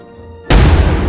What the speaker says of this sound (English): Wheel out the cannons.